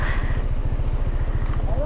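A motorcycle engine putters steadily at close range, with a low, rhythmic pulsing throb as it crosses a thick wooden plank bridge with wide gaps, and a voice talks over it.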